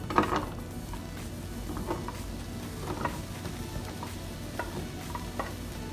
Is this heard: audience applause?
no